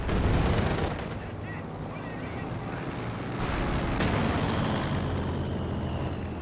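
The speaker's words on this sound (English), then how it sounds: "nice hits there from the stolen 6-pounder" Game battle audio featuring a 6-pounder anti-tank gun: heavy booming shots and explosions over a dense rumbling din, loud throughout, with talk layered over the top.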